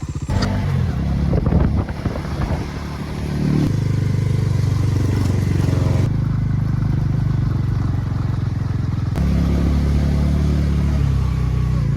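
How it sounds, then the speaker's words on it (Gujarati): A Bajaj Pulsar motorcycle engine drones steadily and close while riding along a road, its pitch and loudness shifting a few times as it accelerates and settles. "આ બાઇક લઈને જતા હતા. પલ્સર ની બાઇક છે,"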